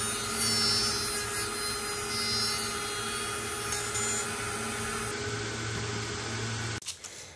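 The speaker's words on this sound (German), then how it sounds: "Nach und nach werden alle Kanten nun auch auf der rechten Seite bündig gefräst." A milling cutter trims the edges of piano keys flush on a Yamaha grand piano, a steady close whine with a constant hum that cuts off abruptly near the end, followed by faint clatter.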